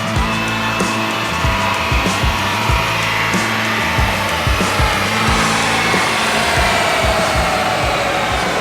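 A Toyota Supra with a B58 engine roars on a dyno during a pull, a loud sustained exhaust drone with pulsing low-end throb and rising pitch throughout, very close and filling every moment.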